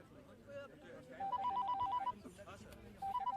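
A telephone rings in repeated bursts of warbling electronic trills, close and fairly loud, while voices talk over and between the rings.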